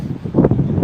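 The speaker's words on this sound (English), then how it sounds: "it's really windy out here" Outdoor wind buffets a phone microphone in an open parking lot, a short burst of low rumbling gusts with a sharper thump midway, no voices heard.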